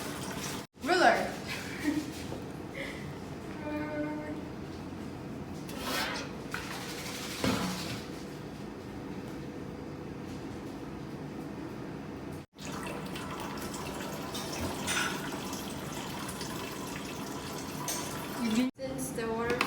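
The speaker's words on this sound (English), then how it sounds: "Since the water flow is too fast, we will cover the top of the bottle a bit to control the water flow." Water pouring steadily out of a bottle in a small science experiment, a faint continuous trickle with occasional splashes and handling sounds, and a voice talking over it at times.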